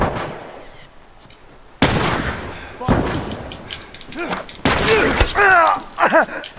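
Heavy thuds of gunshots striking the player in The Last of Us, a few sharp loud impacts spaced apart, with grunts and brief speech between them.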